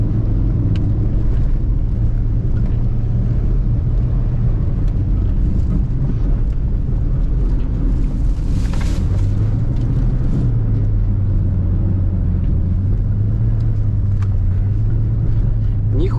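A Subaru Forester in a rally video game, engine straining and droning steadily at low pitch with a small rise in revs partway through, loud and continuous throughout.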